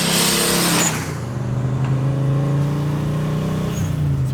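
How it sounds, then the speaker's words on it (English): A Nissan R34 Skyline with a 5.7-litre V8 swap and a 76mm turbo accelerates hard, its engine tone climbing steadily as the turbo spools up, loud and close from inside the car. "Turbo spools up really quickly"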